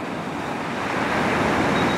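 Sea waves breaking on the beach at St Cyrus, a continuous, loud wash of surf swelling slightly, with no voices.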